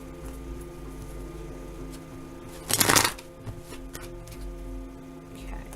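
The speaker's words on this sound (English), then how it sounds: "I'm going to shuffle on camera for you guys to see." Tarot cards are shuffled in one brief, loud riffling burst of about half a second, close to the microphone, against a steady room hum with no talking.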